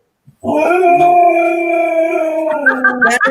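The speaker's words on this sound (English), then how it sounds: "Someone's walking my dog out there." A dog howls outside in one long, loud, sustained wail that wavers slightly in pitch and breaks into yips at the end, close and clear.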